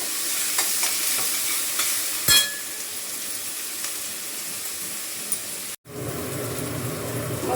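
Onion sautéing in a pan with a pinch of salt while a cauliflower and pea curry is made, a steady hissing sizzle with a sharp clink of a utensil, then a brief cut before the frying resumes.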